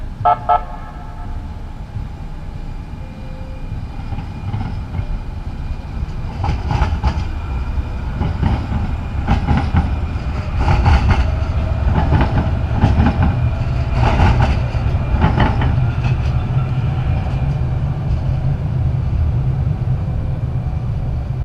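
An Amtrak passenger train rolls past near a Pomona, California crossing, a loud steady rumble with repeated clickety-clack wheel beats over the rail joints, a brief horn toot near the start and no talking.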